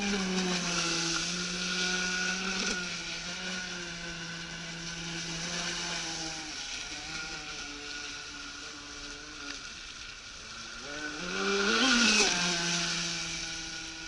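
A Navicraft Rebel 12S RC boat runs on water, its electric motor giving a steady high whine that rises and falls in pitch through turns and speed changes, heard at a moderate distance with no talking.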